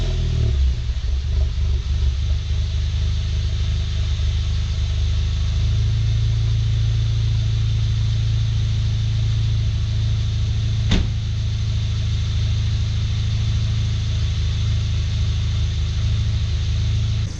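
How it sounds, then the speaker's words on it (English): An MK7 car engine idles steadily just after an oil change, a constant low rumble close by that holds for the whole stretch, with one brief sharp click partway through. "You can hear the car's running pretty good right now."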